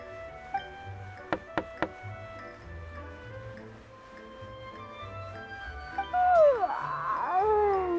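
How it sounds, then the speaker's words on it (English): Knocking on a door in the video game Genshin Impact: three quick, sharp knocks sound close and distinct over soft game background music, with no talking. "Seriously, who's knocking"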